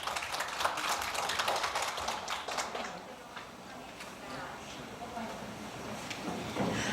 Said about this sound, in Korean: 박수로 응원 주십시오.